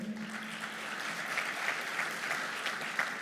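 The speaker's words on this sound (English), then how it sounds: "Let's clap once more for our entire team and for the country." An audience at a maritime safety and security event applauds the team, a steady, fairly faint wash of many hands clapping together with a low murmur of crowd underneath.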